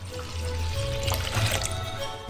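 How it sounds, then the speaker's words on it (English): Water pours into a bucket holding soy sauce marinade, a steady close liquid gush lasting the whole moment, alone without voices. "The same amount of water."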